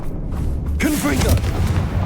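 A Confringo fire spell explodes in Hogwarts Legacy, a sudden broadband burst that swells and holds loud for over a second, with a voice tone sliding through the blast.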